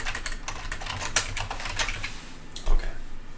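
Rapid typing on a computer keyboard, a steady run of close, crisp key clicks with a few louder strikes, heard alone without talk.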